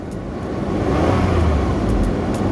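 Hyundai Santa Fe engine revving as the gas pedal is pressed during an AC recharge, a steady low rumble that rises and holds, close by and fairly loud, with no talking.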